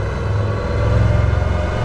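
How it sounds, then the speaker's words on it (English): A deep, steady V8 engine rumble from an Aston Martin AM37 powerboat drones close by with a slight throb, loud and continuous throughout the short stretch. "You can just hear that V8 rumble"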